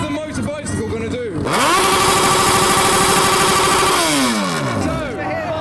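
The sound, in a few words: motorcycle engine revving in rev battle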